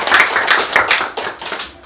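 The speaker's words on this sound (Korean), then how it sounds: "우리 박수 쳐드리겠습니다" A church congregation claps for a member's birthday during a Sunday service, a close, lively burst of many hands in quick, roughly even pulses that swell and dip slightly before fading toward the end.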